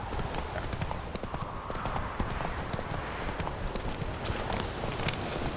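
Horse hooves clip-clop in a quick, steady rhythm while riding in The Witcher 3: Wild Hunt – Hearts of Stone, continuous close hoofbeats on the ground throughout.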